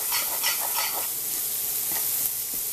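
Pork slices sizzle steadily in a hot pan, a continuous bright frying hiss with a few soft stirring scrapes near the start, close and fairly loud, with no talking.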